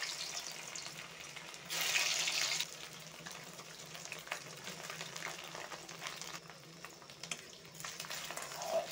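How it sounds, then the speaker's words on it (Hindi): Taro (arbi) pieces fry in oil in a kadhai with a soft, continuous sizzle. A brief louder hiss bursts up early on, and scattered light crackles follow against a quiet background. "इसी तेल पे मैं पहले अरबी को थोड़ा फ्राई कर लेंगे"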